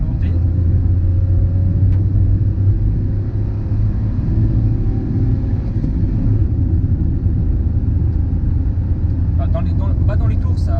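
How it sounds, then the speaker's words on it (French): A 2010 Toyota Aygo's 1.0-litre three-cylinder engine accelerates uphill, giving a steady, loud low rumble from inside the car throughout, with a driver's voice faintly present over the drone. "On va refaire une relance en plein dans la montée."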